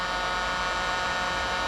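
A heat gun blowing hot air to melt candle wax off an old bit of wood, giving a steady loud broadband whoosh with a constant motor hum, unbroken and alone.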